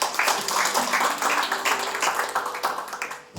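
Congregation in a church clapping together, a dense burst of hand claps lasting a few seconds before cutting off abruptly, with a faint voice underneath.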